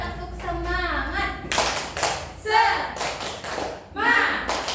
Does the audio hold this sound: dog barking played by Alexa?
no